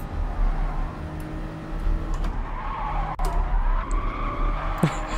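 A race car engine in the video game GT Sport, at Dragon Trail Seaside, drones under throttle with a low, steady roar, tires squealing briefly.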